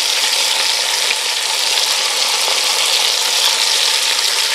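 Pork belly sizzles loudly in hot oil with ginger, garlic, chili and star anise, a dense, steady frying hiss that carries on unbroken with no voices over it.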